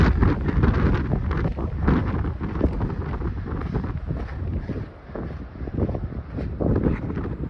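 Gusty wind buffets the microphone on an October day hike up Mount Whitney, a loud, steady low roar with rising and falling gusts throughout and a brief lull near the end.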